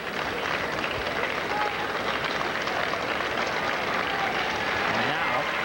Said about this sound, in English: The applause of the crowd